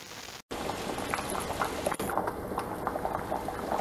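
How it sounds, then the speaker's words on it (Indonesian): Chicken gulai curry simmers in coconut milk in a large pot, with a steady bubbling boil and soft popping plops, close and continuous, with a couple of brief dropouts and no talking. "ini sudah mendidih sampai teksturnya empuk"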